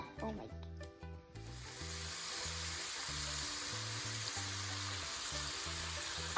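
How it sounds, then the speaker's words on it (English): Vegetables sizzling in oil in a pan while cooking for Filipino pancit, a steady hiss that holds under a low musical background, ending in a sudden bump. "We need to get all the vegetables coated in oil while they cook. Oh, you can hear it sizzling."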